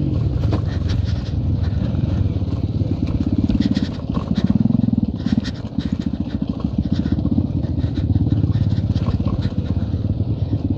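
Motorcycle with a loud modified exhaust, a deep rapid thumping rumble close by, running steadily with a brief throttle swell midway before settling back into a throbbing idle.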